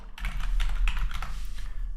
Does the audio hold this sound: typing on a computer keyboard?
yes